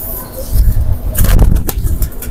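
Lal Pari pigeons, flown in summer heat, flutter their wings in loud flapping bursts, with a coo and other birds around, close by.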